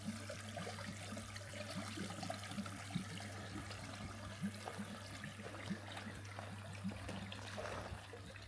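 Water steadily trickling and splashing into a freshly lined garden pond after a filter clean, a continuous close wash under low pump hum, with no talking.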